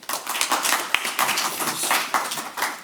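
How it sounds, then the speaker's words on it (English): Applause from attendees at a Dearborn Heights city council meeting, a steady burst of clapping lasting a few seconds with sharp individual claps standing out, heard alone without talk. "Let's give her a round of applause."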